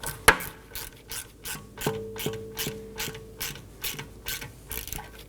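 A hand ratchet snugs down the 10mm bolt holding a rear ABS wheel speed sensor on a 2015-2023 Nissan Maxima, a series of close, rhythmic clicking pawl ratchets with a sharp tap at the start.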